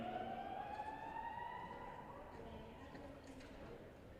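A building fire alarm wails during a theatre matinee performance, a steady continuous tone with slight rising pitch, distant and moderately loud over a murmuring crowd.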